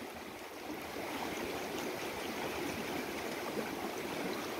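River water flows steadily with an even, gentle rushing and bubbling, soft and continuous throughout, with no voices.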